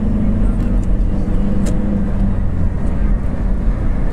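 A car drives along a road in the UAE, filling the clip with a steady, loud low rumble of engine and tyre noise from inside the vehicle.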